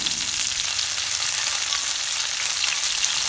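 Beef sautéing for chilli beef with green chillies, an even, dense hiss of frying in oil heard close and continuous without pauses or voices.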